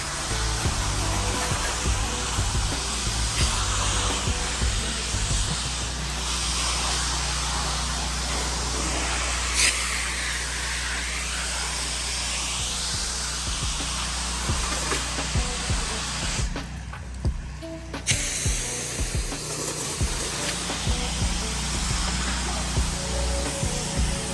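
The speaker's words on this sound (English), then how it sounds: "You're pressure washing." A pressure washer sprays a house with a loud, steady hissing roar that runs almost continuously for over twenty seconds, with a brief drop around the middle.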